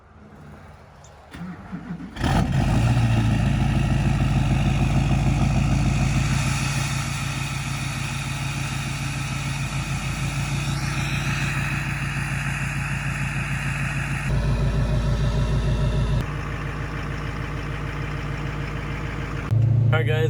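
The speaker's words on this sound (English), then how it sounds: "Let's cold start it real quick." A Duramax diesel pickup truck cranks over briefly and catches, then settles into a loud, steady clattering idle that runs on throughout, with a few shifts in level along the way.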